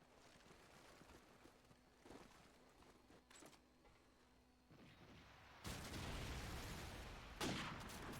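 Gunfire from Call of Duty 4 during a competitive grand final match, faint and distant through most of the clip, then swelling into louder bursts of shooting near the end. No one talks.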